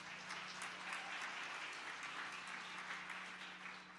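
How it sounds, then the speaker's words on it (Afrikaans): An audience applauds a violinist at a church's 50th anniversary celebration, with continuous, even clapping from a crowd sustained throughout with little else audible. "Raziella Gray, gee vir haar lekker aan 'n klap."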